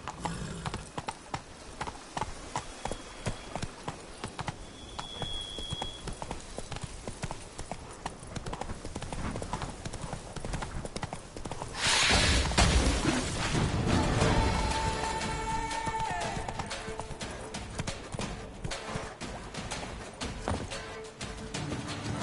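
Horse Roach's hooves clip-clopping at a steady gallop in The Witcher 3, a continuous rhythmic clatter that swells louder and busier partway through, with no talk.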